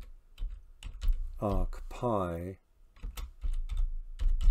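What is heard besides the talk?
typing on a computer keyboard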